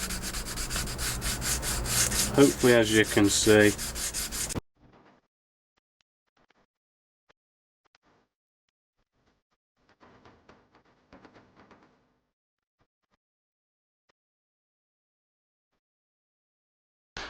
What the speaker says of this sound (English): we've nicely done the coarse sanding stick